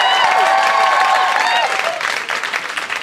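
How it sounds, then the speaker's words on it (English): Comedy club audience at Village Underground bursts into loud, sustained applause with some cheering for the comedian's wife, steady for a few seconds before thinning slightly toward the end. "Actually, if you don't mind, a quick round of applause for my wife."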